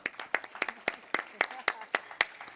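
A handful of audience members at a tech conference session on data security clap sparsely, about a dozen separate sharp claps in a loose irregular rhythm, with no crowd swell building.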